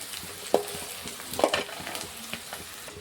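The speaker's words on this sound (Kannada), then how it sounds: "ಇದೊಂದು ಸ್ವಲ್ಪ ಫ್ರೈ ಫ್ರೈ ಮಾಡೋಣ ತಿರುವಾಮ" Crushed cloves and cinnamon fry in hot oil under stirring, a close crackling sizzle broken by sharp scraping clicks of the spoon against the pan.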